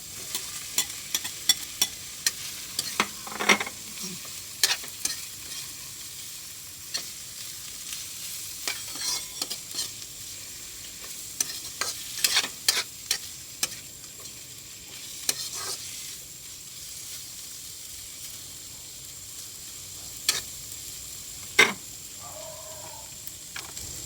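Fish frying in a pan with tomatoes, a soft steady sizzle broken by sharp utensil clinks and scraping as it is stirred and turned, with no talking.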